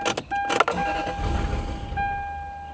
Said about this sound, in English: Let's roll down these back windows. They work.